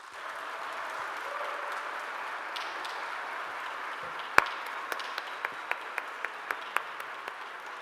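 Audience applause for panel speakers at an urban development forum fills the room as a steady, moderate wash of clapping, thinning to a few scattered individual claps near the end.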